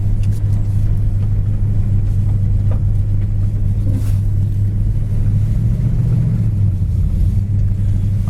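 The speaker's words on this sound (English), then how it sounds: "Motor runs great, transmission shifts good." An orange 1971 Plymouth Duster's engine runs steadily, giving a loud, continuous low rumble close by, with no talking.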